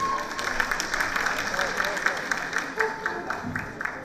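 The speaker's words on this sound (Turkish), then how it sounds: "Değerli öğretmenimize alkışlarla uğurluyoruz." An audience at a school teachers' singing contest final in Van gives a teacher a steady, moderately loud round of applause, with a presenter's voice speaking over the clapping.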